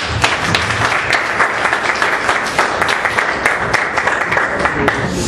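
A church congregation applauds during a Pentecostal worship service in Indaiatuba, São Paulo, a dense, steady clapping that holds loudly and evenly throughout with no break.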